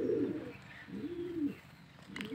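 A pigeon perched in a corner gives a few low, soft coos in a close, quiet setting, the calls coming in gentle rising and falling phrases.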